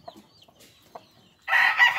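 A few soft, scattered chicken clucks close by in a quiet setting, followed by a sudden loud, harsh burst of crowing or squawking.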